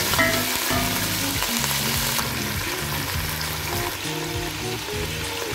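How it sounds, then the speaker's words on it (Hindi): About half a kilo of beef sizzles and fries in a modest amount of hot oil for a Bohra-style yakhni pulao, with a dense, continuous crackle and occasional stirring scrapes close by. "अब इसमें हम जो है आधा किलो के करीब जो है वो गोश्त डाल देंगे"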